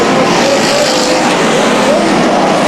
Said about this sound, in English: as Nicholas Johnson spins out in turn number 4.